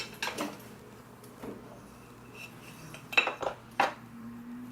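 Vegan coconut lime blueberry muffin batter being stirred in a bowl, with a few sharp utensil clinks against the bowl and soft scraping between them, close and fairly quiet.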